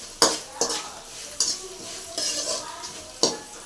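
Fried peanuts with turmeric and salt stirred in a pan: a spoon scrapes and clinks against the metal in about six separate strokes over a soft, steady sizzle, close up.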